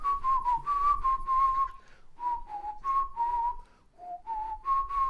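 A person whistles a melody, clear sustained notes in short phrases with brief pauses between them, close and alone with no talking.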